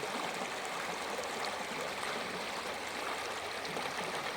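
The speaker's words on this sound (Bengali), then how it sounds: "জলের আওয়াজটা মনকে একদম শান্তও করে দেয়" A hill river flows just before the monsoon, its water rushing in a dense, continuous, close roar with no pauses.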